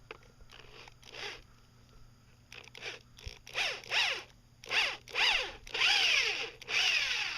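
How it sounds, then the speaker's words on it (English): Bursts of a power drill whirring into wood for a wooden bench, several short runs with pauses between, growing louder and longer toward the end. "And then go ahead and drill it this way."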